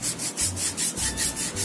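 Rhythmic rubbing of foot skin with a file during a pedicure, quick repeated back-and-forth rasping strokes, close and moderately loud, with no talking.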